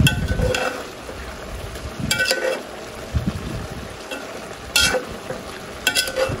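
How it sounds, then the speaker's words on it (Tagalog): Menudo cooking in a small pan, stirred with a utensil: intermittent scraping and clinks over a soft, steady sizzle. "Haluin lang po natin."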